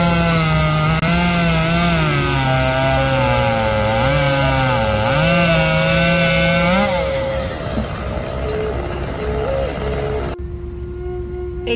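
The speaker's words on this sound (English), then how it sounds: "It seemed as though no trees were safe from the chainsaws" Chainsaws cutting down trees in Brackenridge Park, a loud engine whine rising and falling continuously as the saws bite into the wood, then easing to a lower idle near the end.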